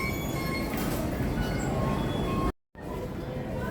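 Hong Kong train arriving at a station, a loud steady rumble with rattling, clinking and faint squealing tones. A voice talks over the rumble, and the sound cuts out briefly before resuming.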